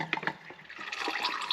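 Dirty differential fluid drains from the front differential of a Polaris RZR, a short close liquid trickle and splash with dribbling, gurgling pulses, no talk.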